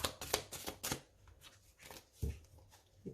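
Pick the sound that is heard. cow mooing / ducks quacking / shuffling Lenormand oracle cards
shuffling Lenormand oracle cards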